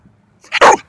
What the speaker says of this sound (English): That's a loud bark.